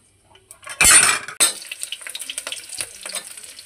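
Garlic pieces drop into hot oil with a loud burst of sizzling, then settle into a steady crackling fry with small pops and a few utensil clinks, no voices.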